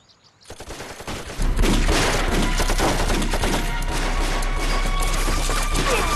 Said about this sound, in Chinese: 枪声好像很近了